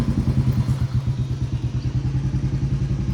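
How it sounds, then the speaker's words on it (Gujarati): A heavy single-cylinder Bullet motorcycle thumps close by with a rapid, even beat, its loudness rising and falling slightly as it rides in circles. "આ ભાઈ બુલેટને ગોળ ગોળ ફેરવે છે"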